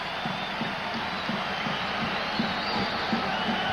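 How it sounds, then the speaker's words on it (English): Basketball arena crowd at a 1985 Cavaliers–Celtics playoff game, a steady roar of cheering with rhythmic chanting pulses underneath. "The crowd trying to get the Cavs going again"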